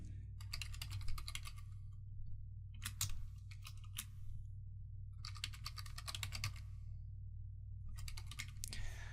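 Quiet typing on a computer keyboard while script code is written, in several bursts of rapid clicky keystrokes separated by pauses, over a low steady hum.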